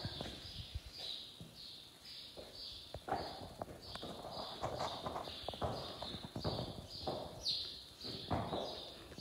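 A pony and a horse stand close by during tacking up, their hooves clip-clopping in a steady, uneven walking rhythm throughout, with faint birds chirping high in the background and no talk.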